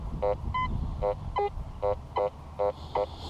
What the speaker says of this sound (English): A little bit of a mid-tone in there.